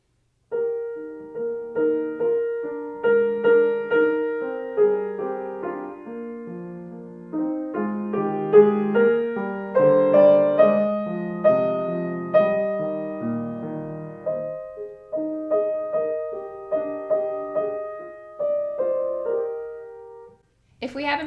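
Solo piano plays Kabalevsky's A Short Story, Op. 27 No. 20, a gentle etude of flowing broken-chord figures under a singing melody, clear and close in a home studio, with steady phrasing throughout.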